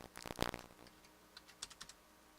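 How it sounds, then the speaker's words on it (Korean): Quick bursts of typing on a computer keyboard used in place of a broken mouse, a dense flurry of keystrokes followed by a few separate taps after a pause, close and fairly quiet. "이게 마우스가 안 돼가지고 지금 키보드로 하고 있습니다"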